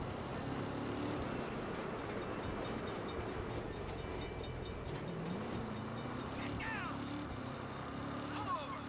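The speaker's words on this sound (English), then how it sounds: "Hell of a time for a train." Train rumble and clatter fill the scene continuously in the game Saints Row, with a faint horn-like tone and traffic noise mixed in, all at moderate distance.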